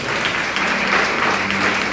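A church congregation applauds together in a steady, dense wash of clapping that fills the space without pause, with a few voices mixed in underneath.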